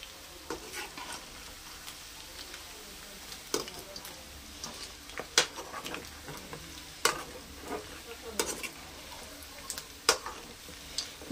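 Chicken sizzles and fries in a pan as it is stirred, with scattered scraping clicks and taps of the spoon standing out over a steady frying hiss, close by with no talking.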